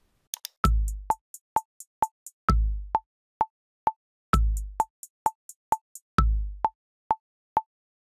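Trap beat programmed in BandLab: four booming kick drums land at the start of each bar, each followed by a steady run of crisp, evenly spaced hi-hat ticks, with no voices over the pattern.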